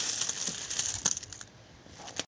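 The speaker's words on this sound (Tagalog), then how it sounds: "Bubuksan na natin yung yung mga barya ko kasi nasa bag lang." Loose coins pour out of a bag, a dense, jingling metallic clatter that thins into a few scattered clinks and ends with one last small spill, close and alone.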